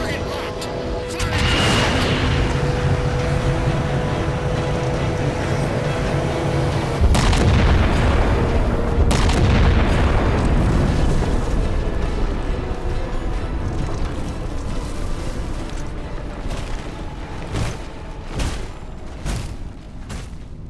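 A weapon fires at a target in Halo 4 and explosions follow: deep, loud booms and roaring blasts rise early, surge again midway, then give way to scattered sharper hits, with voices talking between them.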